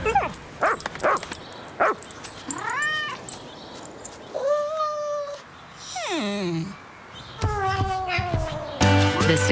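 A dog in a Subaru Outback car advert barks, whines and yelps in short bursts mixed with cat-like meows and sliding whimpers, loud and close, over background speech and music.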